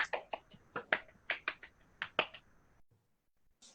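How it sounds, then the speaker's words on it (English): An audience snaps fingers in appreciation after a poetry reading at a summer heritage workshop closing program, a scattered run of a dozen or so sharp, close snaps that stops abruptly into silence. "Can you give Jatara a round of applause or some snaps?"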